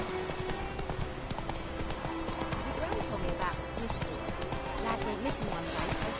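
Roach the horse gallops in The Witcher 3 with a dense, rapid drumming of hooves, loud and continuous, mixed with speech and game background sounds.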